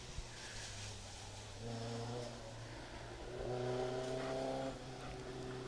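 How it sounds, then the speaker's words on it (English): Ford Escort rally car racing down a hillside on a forest stage of the Woodpecker Stages Rally, its engine droning from a distance, then swelling and revving harder as it draws closer, heard alone. "a car coming down the hillside behind us."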